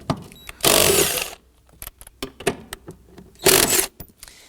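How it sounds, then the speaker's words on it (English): A socket wrench loosens 14mm seat bolts in a 2015-2024 Nissan Murano 3.5L V6 during fuel pump replacement, heard as close bursts of rapid ratcheting whir separated by short clicks and pauses. "we're going to use our socket to go ahead and loosen and remove the bolts on either side"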